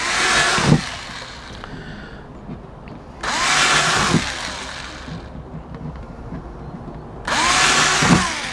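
A power drill bores through plastic in three short, whirring bursts spaced a few seconds apart, with low background noise between them.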